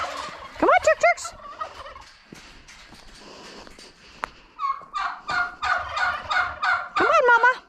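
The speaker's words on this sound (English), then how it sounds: "I'm just going to take this out and feed it to the chickens" Chickens call in bursts, several rapid clucking and gobbling notes early, then a run of repeated calls toward the end, close by.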